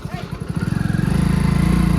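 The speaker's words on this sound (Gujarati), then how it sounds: "આમ ટ્રેક્ટર આવે છે" A low, chugging tractor engine putters with a steady rapid pulse that grows louder and more even as it approaches through a village Holi celebration; voices can be heard around it.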